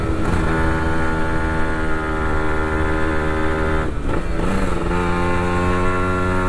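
A motorcycle on a steep road up a mountain above the sea revs hard and close, its harmonic engine note holding steady before a brief dip at a gear change, then climbing again.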